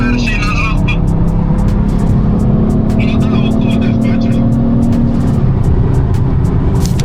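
A 2020 BMW 530e G30 cruises on a highway in sport mode, its engine and road noise forming a loud, steady drone heard from inside the cabin while someone talks over it.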